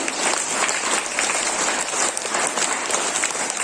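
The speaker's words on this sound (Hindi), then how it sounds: "एक बार जोरदार तालियों से उनका अभिनंदन करेंगे" Students and teachers at a Class IX school morning prayer assembly give loud, sustained applause, a thick continuous clatter of many hands that holds steady throughout.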